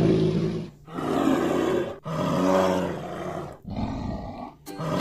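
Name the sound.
bear roaring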